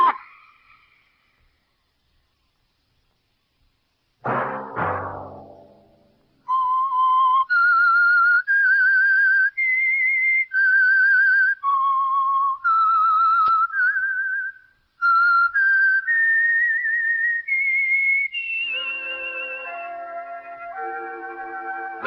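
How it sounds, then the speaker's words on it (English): The signature whistled melody of The Whistler radio program, a clear, solo tune of sustained, sliding pitches that opens after a short sharp sound and carries alone for well over ten seconds. "Let that whistle be your signal for the Signal Oil program, The Whistler"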